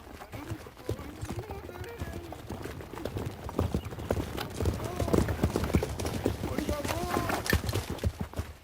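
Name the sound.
horses hooves clip-clopping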